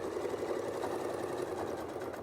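Sewing machine stitching a quilt along a ruler template, a steady, even mechanical whir with rapid regular needle strokes, close and alone.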